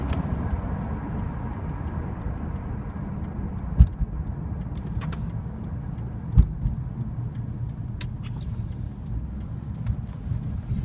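Low steady road and engine rumble from inside a moving 2008 Lexus IS250 sedan, with a few faint clicks and ticks and no speech.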